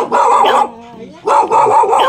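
Several dogs bark at a rural Vietnamese home that keeps dozens of dogs, including a male hunting dog, in loud, close bursts with a brief pause in between. Faint whimpering or yipping fills the gap.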